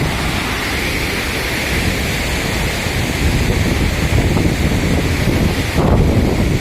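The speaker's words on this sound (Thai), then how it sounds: "ลมเย็นนะครับผม" Cool wind blowing hard at a waterfall in Attapeu, Laos, a loud, continuous rushing roar buffeting the microphone, with the steady wash of falling water underneath and no voices.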